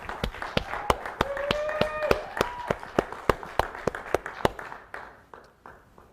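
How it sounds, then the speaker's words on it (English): Scattered applause for graduates at a commencement ceremony, with sparse, separate claps and a faint voice or tone rising briefly mid-way before the clapping thins out. "let's give all of our graduates a wonderful round of applause"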